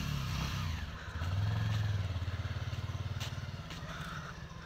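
A motorcycle idles and then revs as it pulls away, its engine settling into a fast, pulsing putter nearby, with no talking.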